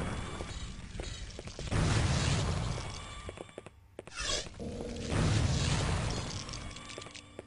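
Phoenix Rod explosions in the video game Heretic 2: two big booming blasts with shattering crackle, each swelling and decaying over a few seconds, separated by a brief near-silent gap.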